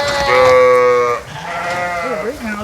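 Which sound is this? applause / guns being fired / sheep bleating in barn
sheep bleating in barn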